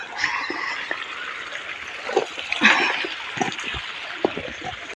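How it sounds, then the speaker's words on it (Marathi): Steady rushing and trickling irrigation water flows continuously into a sugarcane field, with occasional splashes and faint bird calls in the background. "सुरू आहे उसाला पाणी सोडायचं."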